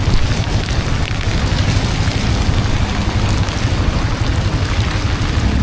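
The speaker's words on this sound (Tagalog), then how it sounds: "Naabot ko tayo ng ulan." Dense, steady roar of heavy rain and rushing wind while riding a Yamaha Sniper 155R motorcycle, loud and continuous with no clear breaks, as if moving through a downpour.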